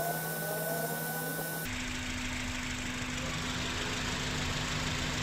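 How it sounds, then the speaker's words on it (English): Radiator cooling fans on a Honda Accord switch on abruptly in the engine bay, a steady low engine hum giving way to a loud, constant broadband whoosh that continues to the end. "So the fans just came on."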